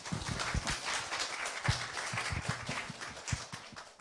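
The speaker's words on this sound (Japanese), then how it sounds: "拍手。" Audience applause at a small live event in Japan, a dense broadband patter of clapping running steadily throughout with scattered louder claps near the listener.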